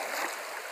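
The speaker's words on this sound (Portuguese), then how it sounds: "Estou dentro da cachoeira, olha só, dentro da água." Water rushing at the Perequê waterfall in Peruíbe, heard from inside the falls as a steady, close, loud broadband wash with no voices.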